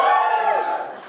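Audience at a conference talk whooping and cheering, a burst of loud shouts and cheers from a crowd that quickly fades out.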